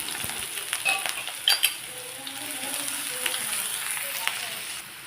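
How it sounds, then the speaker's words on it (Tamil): Chopped onion, green chili and curry leaves fry in coconut oil with mustard seeds, giving a steady close sizzle with a few sharp crackles and light utensil clinks, no talking. "அரை டீஸ்பூன் கடுகு கடுகு பொரிஞ்சதும் ஒரு பச்சை மிளகாய் ஒரு தண்டு கறி லீஃப் ஒரு மீடியம் சைஸ் வெங்காயம் இது எல்லாம் சின்ன சின்னதாக கட் பண்ணி இந்த ஆயிலேயே சேர்த்துருக்கேன்"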